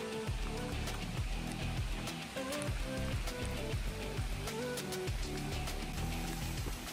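Rain falling during a foggy hike up Dobongsan mountain in Korea, a faint continuous patter with scattered drips and footstep-like knocks, no talking.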